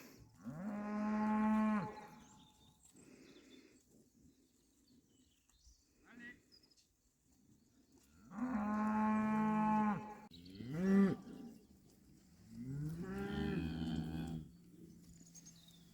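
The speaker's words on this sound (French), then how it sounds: "voilà la dernière avec son veau. Donc voilà, les vaches sont dans ce champ." Cows moo in several long, loud calls spaced apart, with quieter rustling and faint birds between them.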